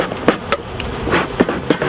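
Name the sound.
honey bees buzzing around a hive box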